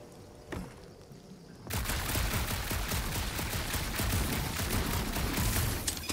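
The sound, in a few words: gunfire in a Guardians of the Galaxy video game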